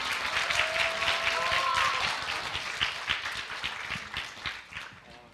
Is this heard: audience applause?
yes